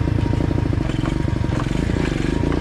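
A Loncin 125 motorcycle engine thrums loudly and close by in a fast, even rhythm of low pulses, with some rattling clatter as the bike pulls away.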